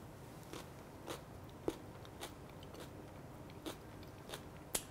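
Close, quiet crunching bites and chewing on a tuna canape with a celery and mayonnaise filling, a series of about nine sharp crisp crunches spaced roughly half a second apart.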